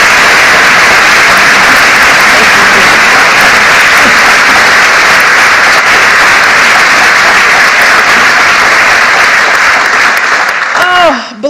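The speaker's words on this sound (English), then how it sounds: "Let's give them both a round of applause." A large audience at a portrait unveiling in a historic hall gives sustained, loud, dense applause, which fades out at the very end as a voice begins.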